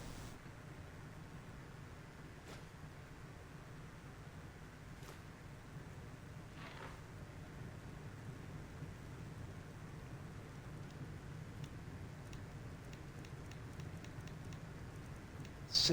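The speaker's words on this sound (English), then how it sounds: "Listen to that rain." Steady rain falls in the video game Skyrim, a soft continuous hiss with low rumble throughout, with a few faint clicks and a brief louder sound at the very end.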